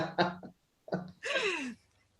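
A person clears their throat and coughs a few times nearby, short rough bursts separated by brief pauses, ending with a longer raspy cough.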